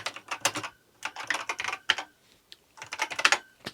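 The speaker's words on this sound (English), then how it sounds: "So now I'm typing things on the master, but I'm really sending commands to the Model B" Typing on a BBC Master computer keyboard, with quick irregular bursts of key clacks and short pauses, close and clear with no talking.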